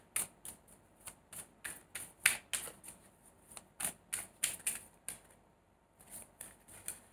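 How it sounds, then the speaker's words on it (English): A tarot card drawn from a deck during a reading: a quiet run of crisp clicks and flicks of cards being shuffled and handled, close and soft, with no talking. "If you want, I can take another card out actually."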